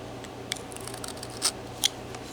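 A knife slicing into wood while carving a small figure for a wedding scene, giving a few faint, sparse cuts with two brief crisp scrapes standing out over a quiet background.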